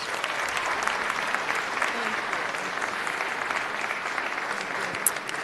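Applause from attendees at a city council meeting honoring a guest, a steady, even roar of many people clapping in a large room, continuing throughout without pause.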